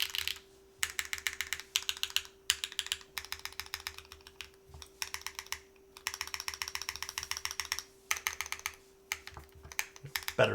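Typing on a Kei v2 60% mechanical keyboard with a copper plate and HMX Yogurt switches: steady bursts of close, clacky keystrokes in quick runs separated by short pauses, with no talking.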